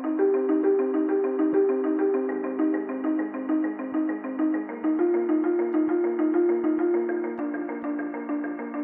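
A synth arpeggio from the build-up of an electronic track cycles rapidly through rising and falling notes in a steady, even pulse, bright and continuous, with no voices over it.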